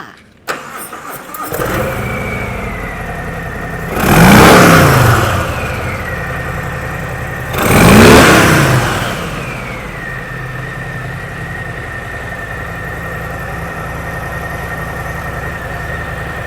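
A 2019 Harley-Davidson Softail Breakout with the M8 114 V-twin starts up and settles into a deep, loping idle, then gives two strong throttle blips that swell and fall back, close and loud with no talking.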